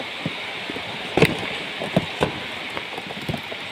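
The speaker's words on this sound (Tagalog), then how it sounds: "Ang ulan." Continuous rainfall on a roof with a soft hiss, punctuated by occasional sharper drops and knocks, heard close by.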